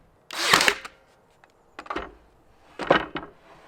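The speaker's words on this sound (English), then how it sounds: "Shoot one nail" Pneumatic nail gun fires nails into a wooden trim board during room renovation: three sharp, loud bursts, each a quick double crack, spaced about a second apart in a quiet room.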